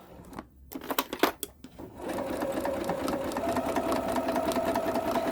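A sewing machine stitches binding onto a fabric placemat, its steady motor whir running loud and continuous after a couple of seconds of scattered handling clicks and taps.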